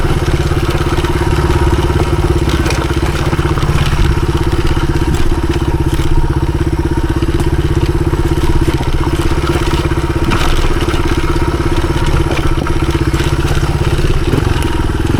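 A 1983 Honda XR200R dirt bike rides a hard enduro trail loop, its single-cylinder engine droning loud and steady throughout, with knocks and clatter from the rough ground mixed in.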